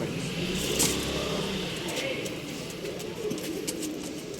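Domestic pigeons coo softly in a loft, the low murmuring calls blending into a steady hum of background noise, with no clear speech over them.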